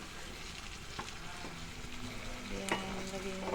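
Fish pieces slipped into a frying pan of vegetables for a fish curry, giving a steady near sizzle and frying hiss with a few soft clinks and stirring sounds, no talk.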